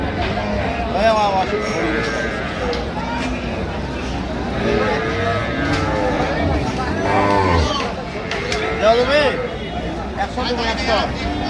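At the Ambari livestock market, dairy cows and calves low repeatedly amid a steady hubbub of voices, the moos rising and falling against constant crowd talk.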